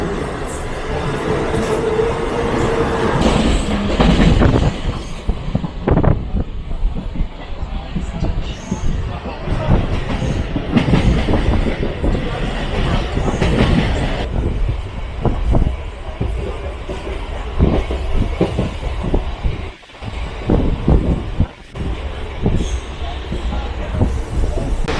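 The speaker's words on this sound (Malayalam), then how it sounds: "ഭയങ്കര സ്ലോ ഉള്ള ട്രെയിനാണെന്ന് പറഞ്ഞത്" A Mumbai local train rolls through a station in Vile Parle, loud and close, with a continuous rumble, rattling wagons and clattering wheels, brief sharp bursts near the end, and people talking faintly under the noise.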